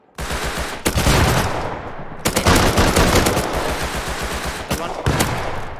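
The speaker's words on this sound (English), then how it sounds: "Start shooting right now." Rapid video game gunfire from automatic weapons during a team firefight, sustained loud bursts with short breaks, overlapping shots and players talking underneath.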